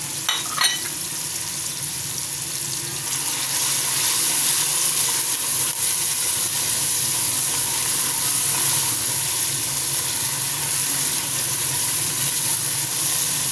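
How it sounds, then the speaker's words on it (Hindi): Chopped capsicum hits a hot pan, a few clatters followed by a loud, steady, close sizzle and hiss of frying that holds on without talk. "अब इसमें कटी हुई शिमला मिर्च डाल देंगे।"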